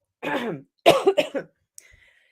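Two bursts of coughing close to the mic, a single rough cough followed by a quick cluster of three, then near silence.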